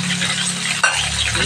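Chicken frying in a pan, a steady bright sizzle with a brief clink of a utensil partway through, close and fairly loud.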